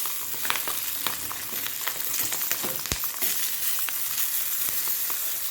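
Brinjals fry in oil in a pan for ennegayi curry, a steady close sizzle with scattered crackles and occasional sharp pops, no voices.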